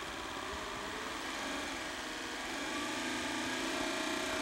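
The electric motor of a BCS walk-behind tractor in first gear spins up under throttle, a faint, steady high-pitched whine that grows slightly louder over a few seconds.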